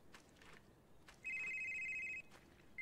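A telephone rings inside the psychological horror game Someday You'll Return, a single steady electronic trill lasting about a second, then a second ring starting at the end, clear and fairly loud over quiet ambient background with footstep-like thumps.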